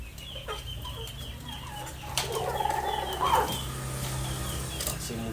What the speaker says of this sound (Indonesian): Ini ayam usia 5 bulan, sama seperti ayam tadi.